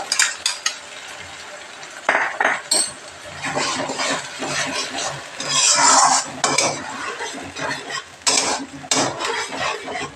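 Spices frying in a pan for a Katla fish kalia, with steady sizzling under busy stirring scrapes and metallic clinks of a utensil against the pan, close and fairly loud throughout with no talking.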